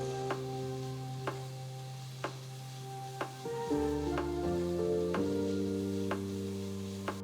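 Grated cabbage and vegetables for paneer momos sizzle and get stirred in a pan, with sharp ticks from the spoon scraping through steady frying and a low hum underneath; no one speaks.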